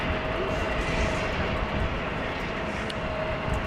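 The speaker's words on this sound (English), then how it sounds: "we have a KLM that is approaching the threshold" A KLM airliner approaching the runway threshold at wet, windy Amsterdam Schiphol: a steady, droning jet engine roar with a faint whine, sustained and moderately distant amid wind noise.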